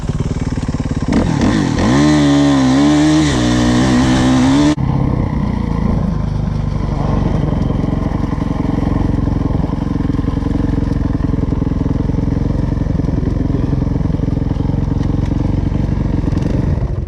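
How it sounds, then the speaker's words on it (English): Dirt bikes, a pit bike and a 450, ride close by: a loud engine revving and pitching up and down for several seconds, then a rough, steady engine rumble with wind and clatter continuing to the end. "He's on the pit bike, I'm on the 450."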